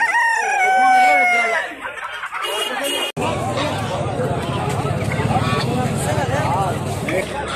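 Chickens and ducks at a Friday poultry market in Al-Aziziyah cluck and crow amid a crowd, with loud bird calls over constant chatter and people talking nearby.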